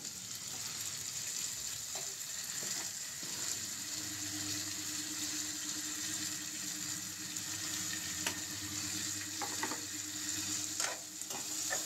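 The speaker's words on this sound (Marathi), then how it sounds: "परतून घ्या आणि टाका टोमॅटो." Chopped tomatoes and onion sizzle steadily in a hot pan as they are stirred, a continuous close frying hiss broken by occasional scraping clicks of the spoon.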